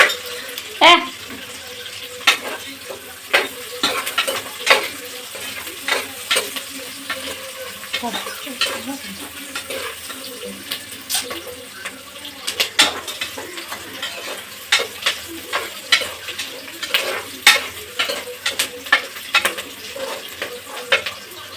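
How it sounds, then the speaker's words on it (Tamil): Onions sizzle steadily in a hot pan, frying golden for tomato rice, while a spoon scrapes and stirs in repeated bursts, clinking against the metal. "இந்த மாதிரி பொன்னிறமாக வெங்காயம் வதங்கிடும்"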